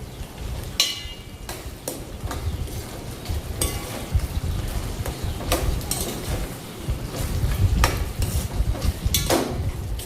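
Egg chilly being stirred in a pan, a steady sizzle under repeated scraping and clinking of a spoon against the pan at an irregular rhythm, close and moderately loud.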